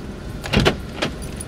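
A car's central locking engages automatically as the drive begins, a quick pair of close mechanical clunks followed by a softer click inside the cabin.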